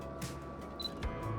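A camera shutter fires during a handheld intentional camera movement shot at a 15th of a second, with a couple of soft close clicks over quiet background hum.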